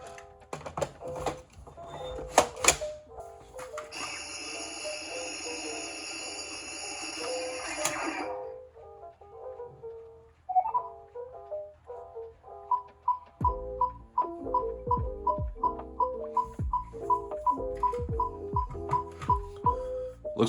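A Haslab Ghost Trap fitted with a Frutto Extrapolator kit runs a test cycle: clicks and clatter, a sustained buzzing whine for several seconds, then a steady run of rhythmic electronic beeps and chirps, close and fairly loud.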